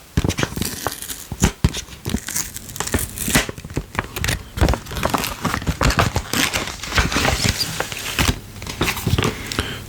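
A white paper envelope crinkles and tears open up close, with irregular rustling, crumpling and ripping bursts across ten seconds, close and fairly loud.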